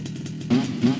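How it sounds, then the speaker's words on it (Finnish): A moped engine revs up close, a buzzing idle that jumps into two sharp, louder rising revs within a second. "Mulla on mopo."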